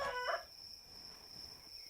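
A rooster crows once up close at the start in the video game Farmer's Life, then a steady high electronic tone hums over faint background noise.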